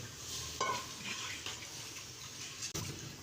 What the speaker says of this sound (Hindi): अब मैं इसमें 5 गिलास पानी डाल रही हूँ।